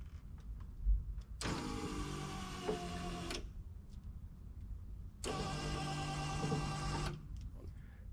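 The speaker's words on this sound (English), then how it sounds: "So now I could hotwire the motor to go up and down." A hotwired headlight motor on a Maserati Ghibli whirs through two runs of about two seconds each, a buzzing electric drone with a quiet gap between, close and clear with faint ticks around it.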